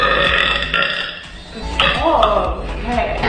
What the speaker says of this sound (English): Can you stop burping?